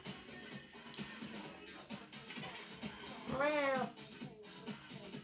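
A cat meows indoors, one clear drawn-out meow in the middle, near and fairly loud, with soft shuffling and a quiet voice talking around it.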